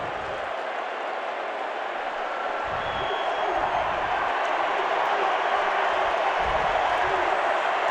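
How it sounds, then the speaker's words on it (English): A college football stadium crowd at a Washington State vs. Boise State game roars loudly and without a break, a dense wash of cheering that fills the whole stretch. "Crowd is just about as loud as it's been all night long"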